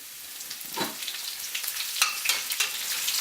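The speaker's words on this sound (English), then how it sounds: "Now these pasilla chilies fry very quickly." Pasilla chilies dropped into hot oil, crackling and sizzling in quick bursts close by, a brief busy frying hiss with sharp pops and no talk.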